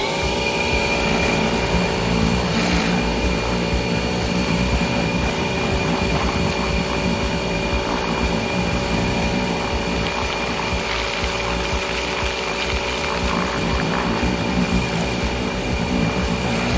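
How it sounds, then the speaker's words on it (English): Steady high-pressure jet spray blasting grime off the tyres and wheels of a neglected Volkswagen Polo GTI, a continuous loud hiss mixed with a motor drone that runs without a break, with nobody speaking. "proceeded to jet wash all of that grime away"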